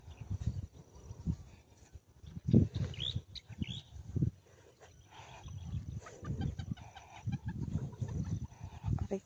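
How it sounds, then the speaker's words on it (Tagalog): Chickens cluck and murmur in a yard near a dug-up sweet potato patch, with soft scattered calls coming in and out at moderate distance over faint background rustling. "Ay naman ang mga manok."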